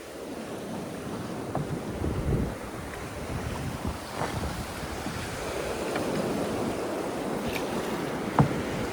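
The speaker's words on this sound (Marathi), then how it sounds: "पूर्ण होडीमध्ये पाणी आलाय आणि लाटा कसल्या मोठ्या येतात एकदम" Big sea waves surge and slap against a small fishing boat out on prawn fishing, with steady rumbling wash and strong wind buffeting the microphone, no voices.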